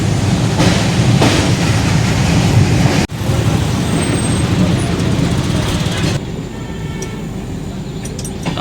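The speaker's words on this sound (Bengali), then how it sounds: "আমাদের ট্রেনটি আগ্রা ফোর্টের ঠিক সামনে দিয়ে যাচ্ছে" Loud, steady rumble of a passenger train in motion passing Agra Fort, continuous wheel and carriage noise with a brief click midway, heard from inside.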